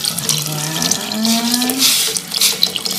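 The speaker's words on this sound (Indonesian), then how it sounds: "Kita masukkan bismillahirrahmanirrahim santannya" Coconut milk pours into simmering soto betawi broth with a steady liquid splash and trickle lasting a few seconds, close and fairly loud, with no voices.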